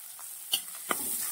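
Sliced green chili, ginger paste and onion frying in a pan give a faint steady sizzle, broken by two brief scraping stirs.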